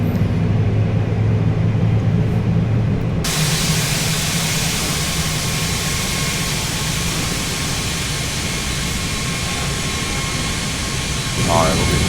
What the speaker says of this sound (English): as we probably got a good engine number 1 start